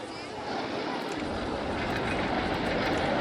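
Ghost train roller coaster cars rumbling along the track in the RollerCoaster Tycoon video game, a steady rolling roar that swells after a brief quieter start, with a voice talking over it.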